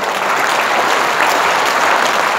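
A full hall in Lviv bursts into loud, stormy applause for soldiers, a thick unbroken roar of many hands clapping close and steady from start to finish.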